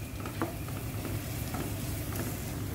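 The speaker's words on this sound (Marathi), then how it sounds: "बरें ताका मिक्स करून घेयात आनी एक 2-3 मिनटांनी ताका बरें कूक करून घेयात" Chopped onions fry with a small spoonful of ginger garlic paste in a home kitchen pan, a steady close sizzle with scattered soft scraping clicks of a spoon stirring, no voices.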